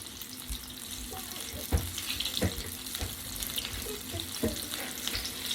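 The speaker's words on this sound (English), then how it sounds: "But they need to cook in the fryer." Fuji apple donuts frying in a fryer of hot oil give a steady, quiet sizzle and bubbling hiss, broken by a few soft knocks and clicks as they are turned with wooden skewers.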